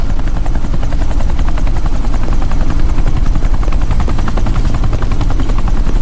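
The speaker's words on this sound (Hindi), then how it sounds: "ये हेलीकॉप्टर सीधे एयरपोर्ट के टारमैक पे लैंड होगा।" A helicopter flies in to land at an airport tarmac, its rotor chopping in a loud, rapid, steady beat close overhead throughout, with no speech.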